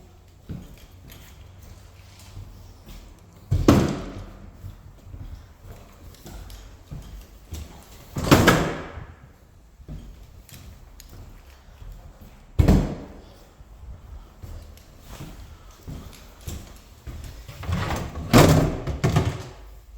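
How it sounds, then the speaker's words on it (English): Drawers are pulled out one at a time in a quiet room, making four separate loud sliding and knocking thuds spaced several seconds apart, with faint handling noise in between. "let's take out some drawers"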